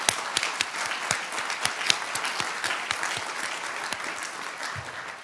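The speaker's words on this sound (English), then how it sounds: "and we applaud her for what she's doing." Applause fills a large hall during a speech by a World Jewish Congress president, with a steady wash of many hands and sharp individual claps standing out, at moderate volume and not very close.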